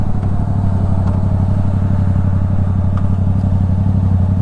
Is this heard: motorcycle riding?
yes